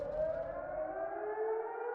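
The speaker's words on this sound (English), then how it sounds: "Sirens wailing." A video-game siren wails in a long sustained tone, its pitch slowly sliding, steady and continuous throughout.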